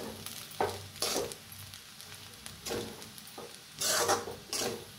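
Sabudana khichdi is roasted and stirred in a pan, with soft intermittent scrapes and shuffles of the spoon over a low sizzle, close up and quiet.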